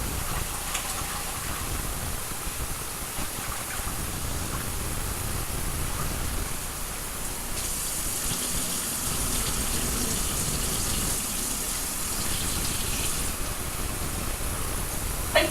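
Sushi rice rinsed by hand under running tap water: a steady, close gush of water with soft swishing and splashing as fingers move through the grains, continuous throughout without talk.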